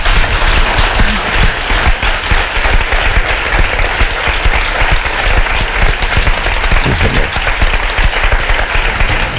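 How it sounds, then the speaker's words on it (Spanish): Sustained loud applause from an audience at a talk event, a thick continuous wash of many hands clapping that holds steady throughout with no voices. "Y eso creo que es merecedor de un aplauso"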